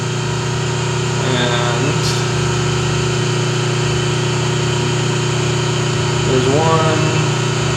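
A Dependable Machinery 152-A surface grinder hums steadily with a constant motor whine, while someone speaks over it.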